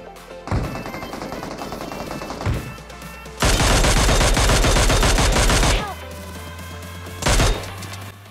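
Loud, close automatic gunfire in BGMI, fired in long continuous bursts with a few short gaps and a final brief burst, over a low steady game hum.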